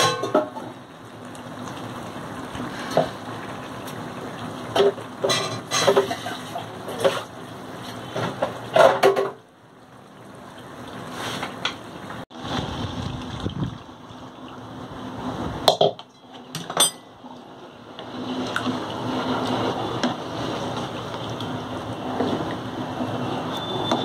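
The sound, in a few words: rinsing a cooking pot with water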